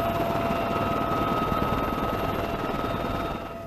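A military helicopter flies overhead with a loud, continuous rotor thrum and turbine whine that holds steady before dropping slightly at the end.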